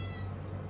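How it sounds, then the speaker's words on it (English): A cat gives a single drawn-out meow, close and fairly clear, with no talking. "Oh my god, there's a cat."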